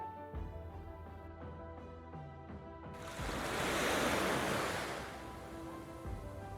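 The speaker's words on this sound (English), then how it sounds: "Busan features numerous public beaches maintained by the city government, catering to swimming and leisurely strolls." Ocean waves washing onto a public beach in Busan, a steady broadband roar that swells into a louder surge midway and then eases, heard alone with some wind and no voices.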